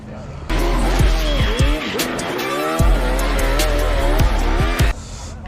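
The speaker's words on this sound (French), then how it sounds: "Le moteur marche tellement fort que ça lève les roues avant quand il accélère." A twin Suzuki-engined ice racing car, built with two motorcycle engines, revs hard and accelerates on a frozen track. A loud, close, sustained engine note rises and falls in pitch with repeated sharp shifts, and there is no talk over it.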